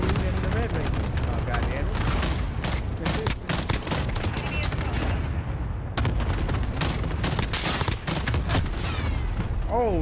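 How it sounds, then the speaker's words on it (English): A cluster strike in a first-person shooter hammers down as a dense, continuous barrage of overlapping explosions and crackling blasts, loud and sustained throughout, with a brief lull midway and game voices mixed in. "Allied cluster strike inbound."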